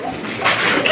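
Fancy pigeons in a godown coo in a steady, fairly loud and close murmur that swells slightly midway, with no voices over it.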